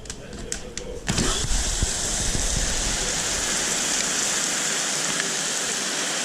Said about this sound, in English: That's freaking hail, dude.